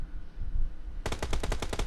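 Rapid automatic gunfire in the PUBG Mobile battle royale game: a sudden burst of about ten evenly spaced loud shots after a second of low background rumble, with no talking over it.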